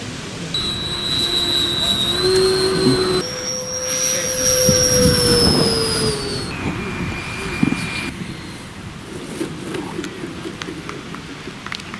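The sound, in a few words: RC jet model aircraft flying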